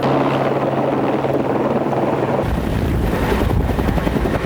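Loud, close helicopter airlifting a film crew and equipment up a mountain, its rotor chop and engine roar steady throughout, with a sudden shift in tone about halfway.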